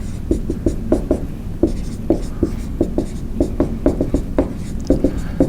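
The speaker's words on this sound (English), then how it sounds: "I'm going to write it in right here" Marker or chalk writing on a board during an economics lecture, a steady run of quick taps and short strokes, close and clear with no talk over it.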